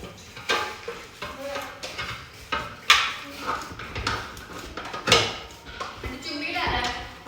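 A spoon scrapes and clatters around a bowl while mashed potato paste is stirred together with chili for potato bread, giving a string of uneven knocks and smears, with someone talking over the work.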